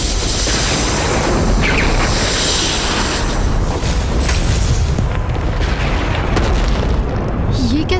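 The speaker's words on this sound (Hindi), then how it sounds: "ये कैसा विस्फोट हुआ?" A loud, sustained booming roar from an explosion in the mythological TV drama Vighnaharta Ganesha fills the scene, a dense continuous rumble that swells and persists without a break from start to finish.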